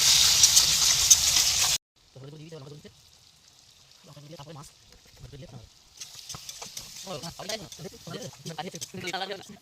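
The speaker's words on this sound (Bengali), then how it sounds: "মশলা এখন ভাজা চলছে।" Spices sizzle loudly in a hot pan for a couple of seconds in a Sundarbans fishing-trip kitchen, then cut off, leaving quieter clatter and talk from people nearby.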